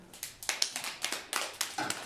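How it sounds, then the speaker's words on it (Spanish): Children clapping for a classmate named Santi in a classroom, a short run of uneven, light hand claps with sharp individual strikes, fairly quiet and without talk. "Un aplauso para Santi"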